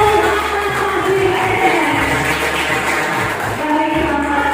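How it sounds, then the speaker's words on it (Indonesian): Applause from a seminar audience welcoming a guest speaker, a dense sustained clatter of many hands mixed with crowd noise, steady and loud throughout. "dengan tepuk tangan meriah narasumber kita pada malam hari ini"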